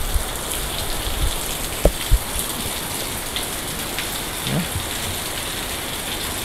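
Steady light rain falls outside beside a flooded street, an even, unbroken hiss with a couple of brief knocks and no one talking.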